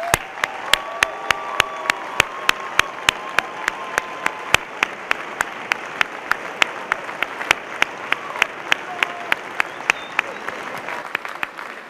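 Audience applause for rising degree candidates at a Wentworth Institute of Technology commencement, steady clapping throughout with a few sharp nearby claps standing out and a brief sustained tone partway through.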